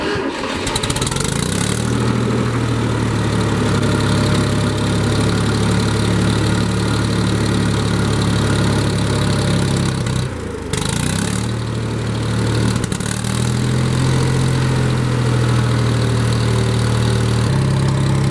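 A Ford 2000 tractor engine, choked after sitting with a lost carburetor prime, cranks and catches, then settles into a loud, steady low idle close by with a brief dip partway through and no talk.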